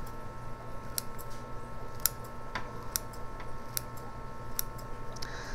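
Scissors pruning the trunks of a geranium make faint, crisp snips, about six cuts spaced roughly a second apart over quiet background hiss.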